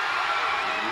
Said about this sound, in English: Connally's crowd is loud and ready to go.